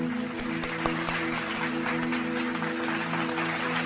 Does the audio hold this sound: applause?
yes